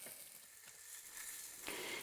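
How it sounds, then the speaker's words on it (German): Button mushrooms fry in oil in a pan for a winter salad, a steady close sizzle and crackle that swells slightly near the end, with no voices. "Es wird wieder etwas Öl in die Pfanne gegeben und jetzt werden noch Champignons angebraten."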